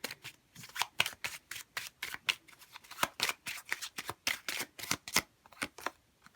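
A deck of tarot cards is shuffled before one card is drawn, a rapid, close riffling of crisp card flicks in a brisk, uneven stream with no speech.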